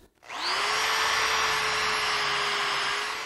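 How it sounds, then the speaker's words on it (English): A power drill whirs up to speed and holds a steady high-pitched whine, loud and close, running continuously without pause as it drills through wood. "I just want to drill all the way through."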